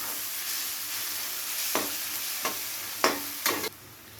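Onions frying in a pan for a north Bengal egg and potato curry, a steady broadband sizzle with four sharp stirring scrapes and clatters near the end, no talk.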